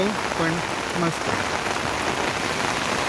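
Monsoon rain falls steadily on surfaces with a dense, even hiss, while someone speaks briefly near the start.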